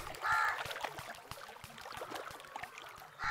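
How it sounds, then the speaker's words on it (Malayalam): Crow caws used as a sound effect in a retelling of Noah sending a crow out to find land: a few harsh, clear calls, one near the start and one at the end, over a soft, flowing background with no talk. "അങ്ങനെ കര കണ്ടെത്താനായി നൂഹ്നബി ഒരു കാക്കയെ പറഞ്ഞുവിട്ടു"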